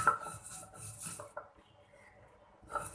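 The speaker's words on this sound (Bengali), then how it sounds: "তাই আমি এটাকে ভালো করে ক্রাশ করার জন্য কিন্তু আমি বেটে নিচ্ছি পাটায়" Spices are crushed by hand on a sil-pata grinding stone, with rhythmic gritty rubbing and scraping strokes up close, a brief pause, then the grinding starts again.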